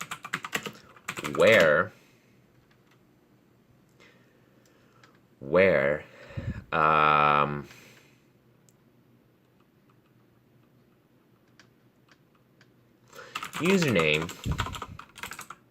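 Computer keyboard typing an SQL delete query, with quick clustered bursts of key clicks between stretches of quiet, and a person speaking during parts of it.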